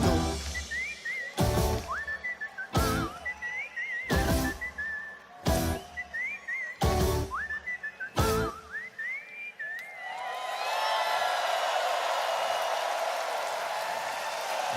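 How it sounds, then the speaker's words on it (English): Whistled melody closing a Eurovision Song Contest 2014 final performance, bright wavering tones punctuated by loud rhythmic beats, then giving way to sustained crowd applause and cheering from a large arena audience. "Whistling to the end there."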